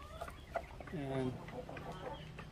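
A small flock of chickens being herded inside clucks close by, with a few tonal squawks and soft clucks scattered over a quiet background.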